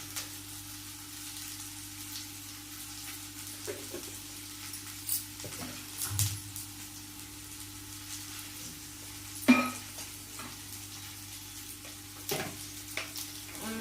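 Onion and spices frying in a pan for dum aloo curry: a faint, low sizzle with sporadic clicks and spoon taps, heard alone and quiet for the whole stretch.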